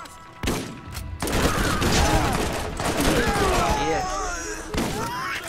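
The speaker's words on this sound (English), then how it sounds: "It's a 3-round burst." A gun in the Borderlands video game fires in 3-round bursts, loud and sustained, blending with explosions and other game combat effects.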